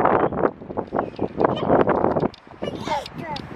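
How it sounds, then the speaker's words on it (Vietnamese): Strong wind buffeting a microphone outdoors on a Michigan walk, a continuous rough rumbling roar that surges and dips, with some faint voices and rustling underneath. "Gió quá."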